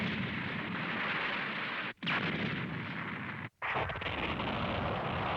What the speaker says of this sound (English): There's your nuke going off.